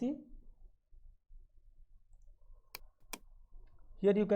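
Two sharp computer mouse clicks sound close and distinct while navigating FactoryTalk software, separated by a short pause, with a person talking just before and just after.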